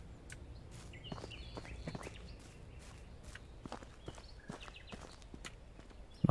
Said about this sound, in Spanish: Son mis propias pisadas.